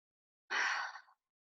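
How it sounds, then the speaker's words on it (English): A single deep breath drawn in and let out, close and fairly loud, a soft airy rush lasting under a second with no talking. "take a deep breath in and out"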